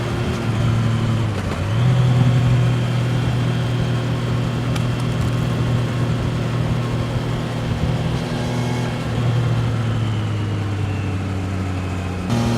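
Triumph Trident 660 motorcycle engine running steadily while riding on wet roads, a loud continuous drone with a brief rise in pitch near the start as a quick-shifter gear change goes through, no voices.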